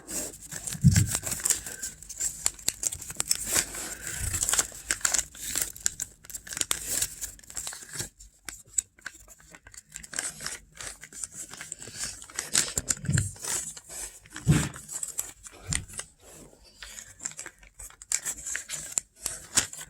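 Paper being folded for origami, with crinkling, rubbing and creasing sounds close up, broken by a few sharper crackles and short pauses, with no talking.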